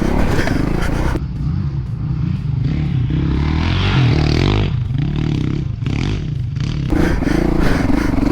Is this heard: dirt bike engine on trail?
yes